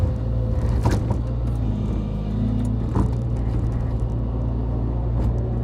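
A truck pulls up at a rice field where an excavator is stripping and levelling topsoil, its engine a loud, close, steady rumble throughout.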